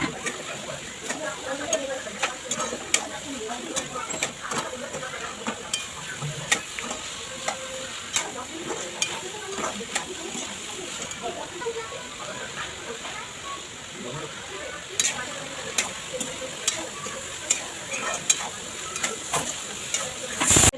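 Okra cooked with onion and tomato sizzles in a pan while a spatula stirs and scrapes in frequent clicks and taps, the frying hiss steady throughout, with a person talking over it at times.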